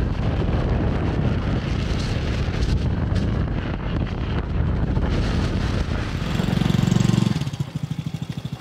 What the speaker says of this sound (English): it's so windy, I'm scared